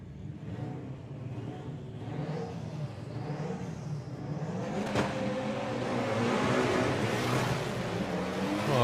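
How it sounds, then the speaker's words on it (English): VW drag racing cars launch off the start line at Santa Pod during Sportsman Nationals qualifying. Engine roar builds and swells over several seconds into a loud, rising rev, with no talking. "big wheel spin once again for Jacob as he leaves the line."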